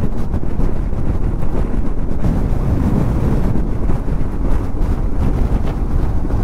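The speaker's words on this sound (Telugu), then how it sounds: "మస్తు అంటే మస్తు గాలి వస్తుంది." Strong wind in Leh, Ladakh buffets the microphone with a loud, continuous low roar and rumble throughout, steady and unbroken with no voices.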